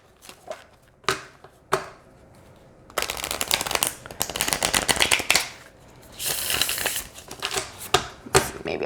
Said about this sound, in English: Okay, let's see how they shuffle.